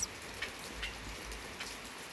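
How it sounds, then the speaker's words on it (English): Sudden rain patters steadily outdoors at a rural home, a faint, even hiss of drops with a few soft ticks and no voices. "So it started raining all of a sudden."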